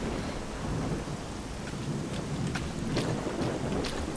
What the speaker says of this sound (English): In a pretty intense lightning storm.